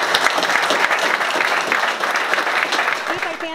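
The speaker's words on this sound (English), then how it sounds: "Maybe with a round of applause for both fighters." A crowd at a boxing press conference claps for both fighters, a brief steady burst of applause heard close, with a voice starting at the very end.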